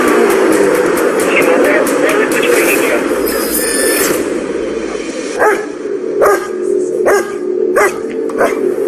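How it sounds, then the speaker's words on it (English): Police dogs bark in short bursts through a noisy scene among back gardens of houses, with a steady rumbling background and some voices mixed in. "The police are now bringing in the dogs."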